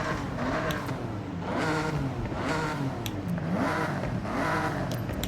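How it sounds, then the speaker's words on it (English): A Porsche 911 Leichtbau with a single turbo revs in the Forza Horizon racing game, its exhaust note rising and falling in several loud sweeps, steady and close with no talk. "let's see what the exhaust note is like"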